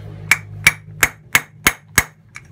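Six sharp metallic hammer strikes on a bolt set against the CVT bearing of a Mio Sporty scooter, evenly spaced about a third of a second apart, close and loud, with a faint seventh tap at the end.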